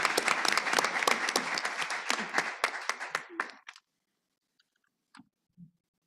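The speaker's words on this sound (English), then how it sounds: "So a final applause for everyone." An audience claps together at a conference opening ceremony, a dense burst of applause for about three and a half seconds that stops abruptly and gives way to near silence with a couple of faint thumps.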